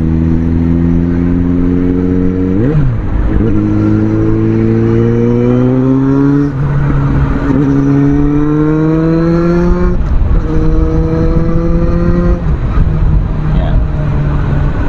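A Suzuki Bandit 650 motorcycle with a 650cc engine revs and accelerates through several gears, each pull rising in pitch before a shift drops it. Loud and close, with steady wind rush throughout.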